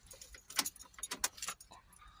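Keys jangle and clink in the ignition of a Honda CR-V 1.6 diesel as it is switched off, a brief close metallic rattle of several quick jingles, quiet overall.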